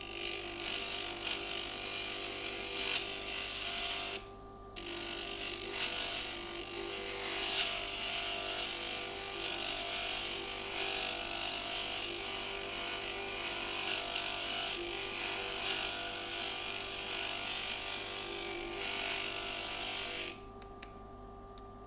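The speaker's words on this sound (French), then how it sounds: "Simplifiez-vous la tâche en laissant glisser le matériau et vous allez tout doucement appuyer contre la meule." A Kristall 2000S water grinder polishes the edge of a piece of glass, a continuous whirring grind with a faint wet hiss that pauses briefly near the start and stops near the end.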